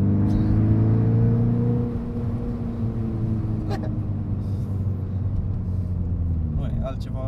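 Kia Pro Ceed GT engine and exhaust droning at steady revs from inside the car, a low humming rumble with shifting tones, louder at first then settling, while people talk over it.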